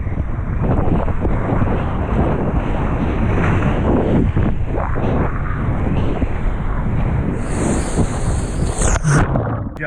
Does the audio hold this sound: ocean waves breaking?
yes